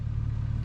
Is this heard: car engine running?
yes